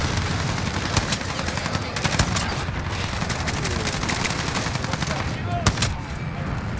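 Gunfire in the video game Modern Warfare, with a steady crackle of distant automatic fire and scattered sharper shots standing out, loud throughout under faint voices.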